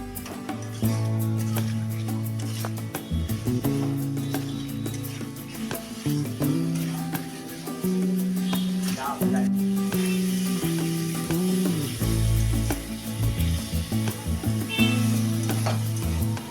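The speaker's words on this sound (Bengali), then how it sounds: "এবারে ভালো করে ভেজে নেব।" Chhana, fresh Indian cottage cheese curdled with lemon, fries in a pan for a vegetarian chhana curry, giving a steady close sizzle throughout with a little clinking and stirring, and no talk.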